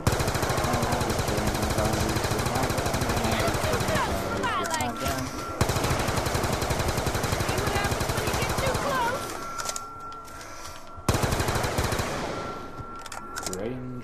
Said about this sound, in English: I'm killing zombies with my gun.